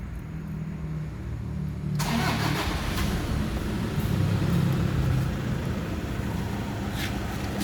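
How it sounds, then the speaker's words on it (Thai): A 2013 Toyota Smart Cab pickup truck engine turns over and fires up after a couple of seconds, then runs in a loud, steady idle close by. "สตาร์ทเครื่องให้ดูนะครับ ฟังเสียง"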